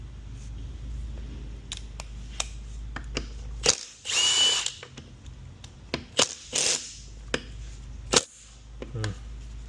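A power tool spins out transmission pump bolts from the case of a 9T60 transmission from a 2018 Chevrolet Traverse, giving a few short buzzing bursts with sharp clicks and clatter between them, up close.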